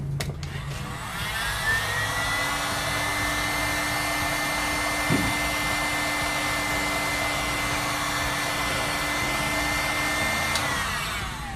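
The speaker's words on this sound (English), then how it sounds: "And in essence, you'll heat it up just like such" A heat gun blows steadily and loudly on a vape battery, shrinking a new plastic wrap onto it; the airy whine holds without a break from start to end.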